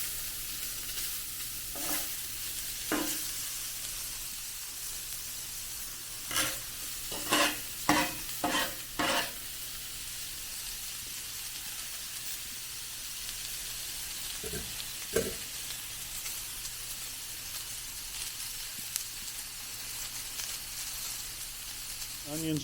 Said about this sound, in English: Onions and mushrooms are cooking.